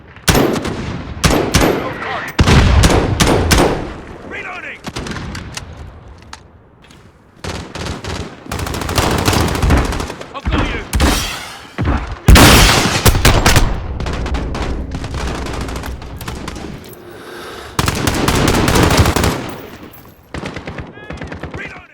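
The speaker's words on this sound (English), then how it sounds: "they're actually dropping mortars now" Mortar fire and heavy gunfire in the video game Call of Duty Modern Warfare Spec Ops, with loud, dense bursts of automatic fire and booming impacts coming in repeated waves, some lulls between, with occasional voices mixed in.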